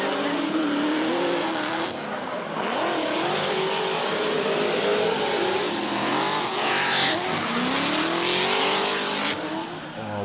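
Drift cars at a televised motorsport event rev hard with squealing tires, a loud continuous engine roar rising and falling over the full stretch while a commentator talks over it.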